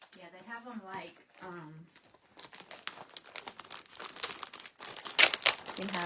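Shrink-wrapped plastic packaging around a pillow crinkles and tears as it is poked open, a busy run of sharp crackling bursts that follows a person speaking at the start.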